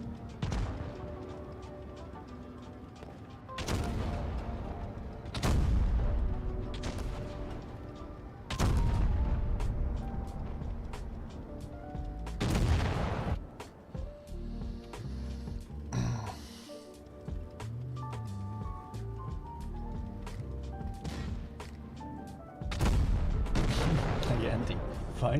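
Tank guns fire in World of Tanks with a Jagdpanzer E100 tank destroyer: several loud, booming shots spaced a few seconds apart over a steady rumbling battle background.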